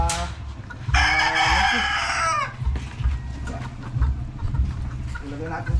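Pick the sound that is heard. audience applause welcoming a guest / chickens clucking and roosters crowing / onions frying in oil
chickens clucking and roosters crowing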